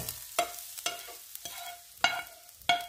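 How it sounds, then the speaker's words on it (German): Bell pepper strips frying in a pan are stirred in five sharp scraping strokes at a steady pace, each followed by a brief sizzle, with quiet gaps between them. "Jetzt geht es weiter in der Pfanne mit den Paprikastreifen."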